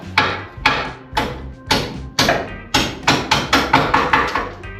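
A hammer striking a punch against the bumper of a 1950s DeSoto, sharp metallic blows landing about a dozen times, widely spaced at first, then quicker and more regular, loud and close.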